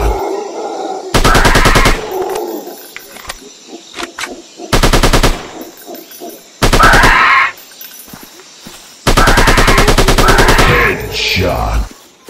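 Sniper rifle shots ring out in Sniper 3D during a dinosaur hunt. Four loud, sharp bursts come at irregular intervals, each with a rattling, sustained crack, separated by quieter game sounds and ambience.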